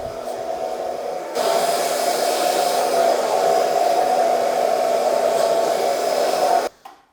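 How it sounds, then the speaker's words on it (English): A hair dryer blows steadily while drying hair, starting at a lower setting and stepping up to a louder, stronger airflow after about a second, running nearly continuously before switching off abruptly near the end. "10 minutes is a long time when you blow dry your hair"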